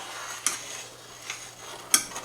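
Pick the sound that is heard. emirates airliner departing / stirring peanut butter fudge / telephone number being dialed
stirring peanut butter fudge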